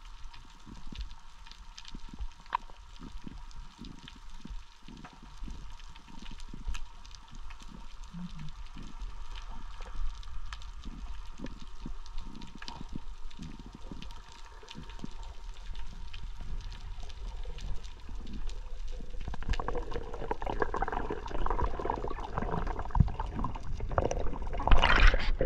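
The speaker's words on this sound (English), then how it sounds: "I'm gonna let you just listen to the sounds of the ocean" Underwater in the Bahamas ocean: soft bubbling, faint clicks and crackles with muffled low thuds, growing into a denser rush of bubbles near the end.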